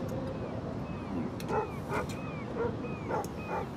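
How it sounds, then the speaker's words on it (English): A dog barks outside in Life Is Strange, a series of sharp, evenly spaced barks and yips heard at moderate distance over a constant background hum. "Is he not going to notice his dog barking outside?"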